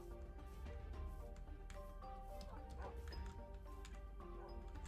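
Dogs barking in Minecraft, quick yips and woofs repeating over a bed of game music, moderately loud, with a faint voice briefly audible.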